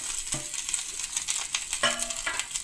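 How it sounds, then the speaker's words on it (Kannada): Okra stir-fries in hot oil with a soft, steady sizzle and occasional clinks and scrapes of a spatula against the pan, fairly close and without talk. "ನಾನು ಬೆಂಡೆಕಾಯಿಗಳನ್ನು ಹಾಕಿ ಈಗ ಫ್ರೈ ಮಾಡ್ತೇನೆ"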